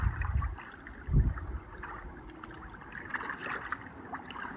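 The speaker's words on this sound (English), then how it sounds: "We just gotta neutralize that acid. Yeah, keep on stirring." Water sloshes and trickles as a bear hide is stirred in an acid-neutralizing soak, with a couple of heavier low swishes near the start among steady, quieter gurgling.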